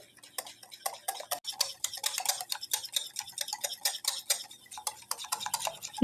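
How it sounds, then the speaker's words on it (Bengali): Milk stirred into an egg and sugar mixture for Christmas fruit cake batter, rapid clinking of a utensil against a bowl in a quick, even rhythm, fairly quiet and close, without speech. "এরপর দুধকে ডিম ও চিনির মিশ্রণের সাথে খুব ভালো করে মিশিয়ে নিতে হবে"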